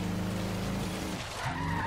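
A Toyota Hilux with a lowered suspension and over 1,000 lb-ft of torque is driven off-road in Forza Horizon 3. A loud, steady engine drone runs throughout, mixed with skidding and tire scrub on loose ground, with no talking.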